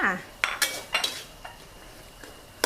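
Utensil scrapes and clinks against a pan while minced fish is stir-fried with green peppercorns and chilies, a handful of sharp clatters spread over a few seconds, close and fairly loud with no talk.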